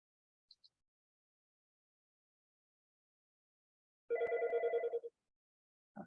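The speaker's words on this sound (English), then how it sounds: "let me take this phone call quick" A telephone rings once in a short, steady electronic burst that lasts under a second, clear against an otherwise silent school health meeting, with only a couple of faint blips before it.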